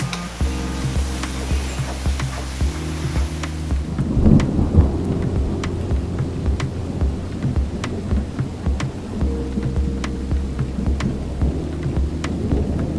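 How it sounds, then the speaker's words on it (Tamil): Heavy evening rain pours steadily with a loud thunderclap rolling in near the middle, rumbling low beneath the constant hiss of rainfall. "சாயந்தரம் நல்லா மழை பெய்யுது."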